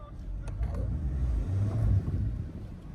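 Mahindra Scorpio N pulling a stuck Baleno during off-roading, a steady low engine rumble under strain that swells midway, with faint background voices.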